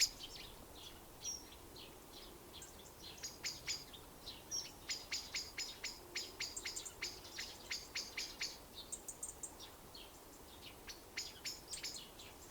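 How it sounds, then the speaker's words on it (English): Birds call outdoors in a quiet natural setting, a steady run of short chirps and tweets that thickens into dense repeated calls through the middle, then thins out again over faint background hiss. "Allow the sounds of the birds on my podcast"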